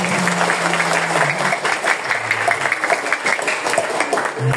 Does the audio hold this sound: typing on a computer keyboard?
no